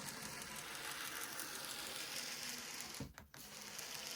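A Hornby Locomotion No. 1 OO-gauge model locomotive running on DC, a quiet, steady whirring ratchet-like gear mechanism close up, briefly dipping near the end; no speech.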